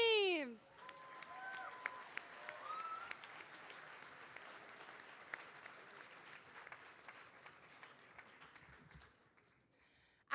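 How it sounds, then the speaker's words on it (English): Audience at a JROTC awards ceremony gives a round of applause for the academic teams, moderate and sustained clapping across the hall that fades out near the end, with some tonal noises mixed in. "Let's give one more round of applause for all of our academic teams."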